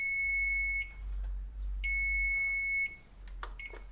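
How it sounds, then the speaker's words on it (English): A kitchen timer beeps while tofu cooks, sounding two long high-pitched beeping runs and then a few short bleeps, loud and close in a quiet kitchen. "That's the timer to flip the tofu"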